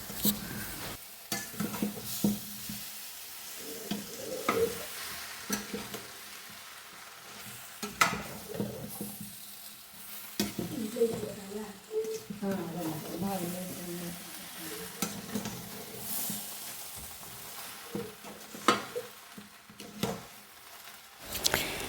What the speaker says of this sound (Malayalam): നന്നായിട്ട് ഇളക്കി ഈ മുളകും മഞ്ഞപ്പൊടി, മുളക് പൊടി, വെളിച്ചെണ്ണ അതൊക്കെ എല്ലായിടത്തും എത്തട്ടെ.